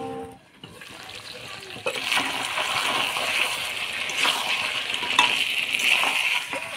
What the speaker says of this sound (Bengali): মাংসটা ভাজা মশলা দিয়ে নাড়াচাড়া করে নিলাম